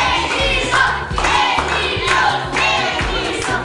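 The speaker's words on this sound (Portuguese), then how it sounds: "Agora eu quero ouvir só a torcida dos meninos." Boys in a children's TV show studio audience cheer for their team, a loud, continuous crowd of young voices with some clapping and a steady beat running beneath.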